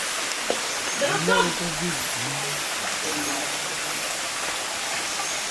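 Stream flowing at a hidden spot in Balingasag, a steady broadband hiss of running water with brief voices talking over it.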